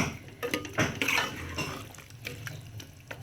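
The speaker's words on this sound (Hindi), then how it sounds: "अब मैं इसमें थोड़ा सा पानी ऐड करूँगी ताकि आलू गल जाए।" Water goes into a pot of beef aloo keema as it cooks: a close, splashy pour mixed with clinks of metal against the pot, uneven and busy, with no talk.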